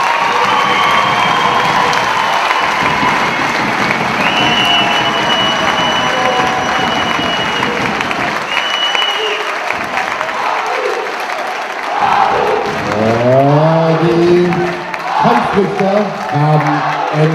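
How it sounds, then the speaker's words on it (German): Crowd applause and cheering at a kickboxing fight night, loud and sustained, with shouts and a voice over a PA system, fading near the end as an announcer speaks. "Einen riesen Applaus für die."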